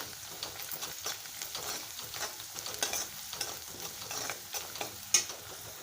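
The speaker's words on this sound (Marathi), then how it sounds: "कांदा आता भाजत आलं आहे" Onions frying in a pan with a little salt, with repeated stirring scrapes over a steady sizzle, close and moderately loud, no talking.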